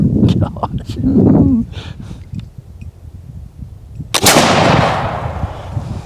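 A smoothbore muzzleloader fired with a round ball and shot lets out one loud, close blast with a long rumbling decay in the second half, after someone speaks excitedly beforehand.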